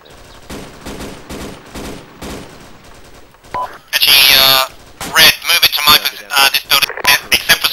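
Gunfire in a military video game: rapid bursts of shots, then a loud sustained blast and a string of sharp reports, with voices talking over parts of it.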